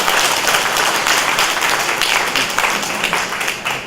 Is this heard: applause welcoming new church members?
yes